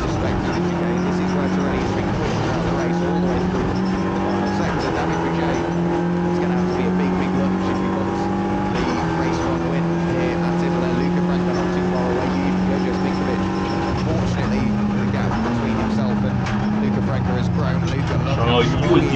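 Race car engine in a racing video game, a loud, steady droning whine holding pitch with brief shifts and dips, running continuously throughout.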